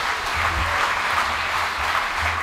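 Sustained applause from an audience at an award ceremony for a 2025 premier league cricket tournament, steady dense clapping throughout with no talk over it.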